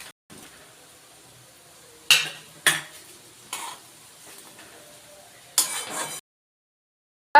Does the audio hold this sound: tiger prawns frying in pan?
yes